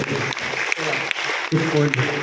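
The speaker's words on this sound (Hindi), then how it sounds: "एक बार जोरदार ताली हो जाए इस बच्चे, बहुत बढ़िया।" Children in a classroom clap together for a classmate, a brisk crackling burst of applause mixed with someone speaking over it.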